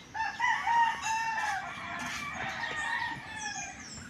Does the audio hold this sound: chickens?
yes